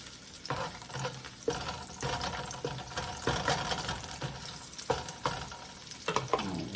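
Garlic frying in oil for noodles, a continuous close sizzle with occasional clatter and stirring knocks, fairly loud and unbroken, no voices.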